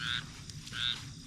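A frog croaks twice near standing water at a wood fence installation site, two short bright calls close to the microphone with a brief pause between them.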